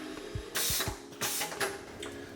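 A button sewing machine attaches a shank button, a blazer-type button: two short bursts of rapid mechanical clattering stitching, close and fairly quiet, with small clicks between and no talking.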